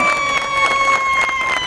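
Crowd of children and adults clapping and cheering at a Children's Day party held by Boca Juniors fans in Garín, a dense steady burst of applause with excited shouts lasting under two seconds.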